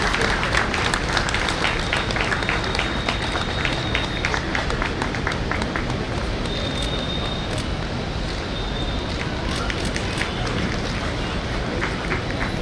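An audience applauds an award winner at a legal association ceremony, a loud, dense, continuous wash of many hands clapping that holds steady throughout, with crowd murmur mixed in.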